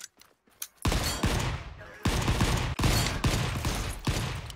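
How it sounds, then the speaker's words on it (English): Shotgun blasts in the game Volcanoids, a run of loud sharp booming shots in quick irregular succession with rumbling tails, following quieter clicks at the start. "They got a shotgun."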